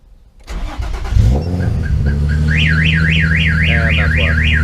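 A boosted Infiniti G35 engine cranks and starts, then settles into a loud steady idle as a car alarm begins wailing with a rising and falling siren.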